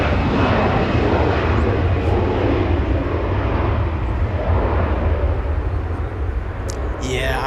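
A large passenger jet such as a Lufthansa 747 or Emirates A380 landing at Los Angeles International Airport gives a steady, loud broadband engine roar that holds throughout with little change in level, with people talking faintly underneath.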